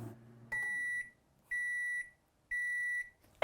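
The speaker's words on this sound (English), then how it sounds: "if you want to mute the buzzer of the microwave" A Toshiba 4-in-1 microwave oven's buzzer sounds three evenly spaced, clear electronic beeps of equal length in a quiet kitchen.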